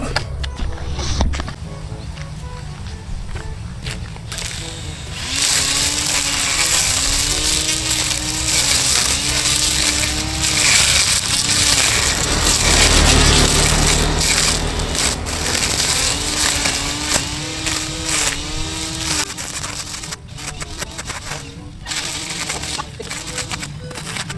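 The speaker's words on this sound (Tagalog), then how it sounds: "Ay po tayo balik sa pag-grass cutter." A brush cutter runs while cutting grass outdoors, its small engine droning with a wavering pitch under crunchy, crackling cutting noise, loud and close throughout.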